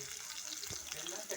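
Onions hitting hot oil with cumin for dhal, a dense continuous sizzle heard up close, loud and steady for a brief moment.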